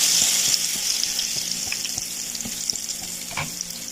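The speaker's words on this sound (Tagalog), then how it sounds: "Nagpainit na tayo ng mantika. So, ipa-fry na natin." Zucchini omelette frying in hot oil gives a continuous bright crackling sizzle, with soft rhythmic taps and light clinks of a utensil at the pan, close and alone without talk.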